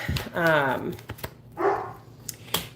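A dog gives a short, close bark or yelp early on, then another brief vocal sound follows, with some faint background noises around it.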